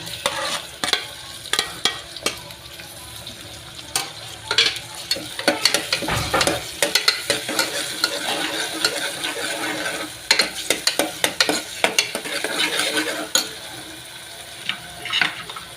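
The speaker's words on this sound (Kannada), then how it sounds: "ಫ್ರೈ ಮಾಡ್ತೀನಿ. ಆಮೇಲೆ ಇದು ಟೊಮೆಟೊ ಹಾಕೋಣ." Food fries in a pan with repeated clattering stirs and bursts of sizzling, close and fairly loud, with a wetter hiss as tomato is added partway through.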